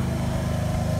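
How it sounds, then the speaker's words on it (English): A neighbor's lawnmower cutting grass runs with a steady, continuous engine buzz, fairly loud and unbroken, with no talking. "Y'all gotta excuse that lawnmower, man. My neighbor cutting grass over there."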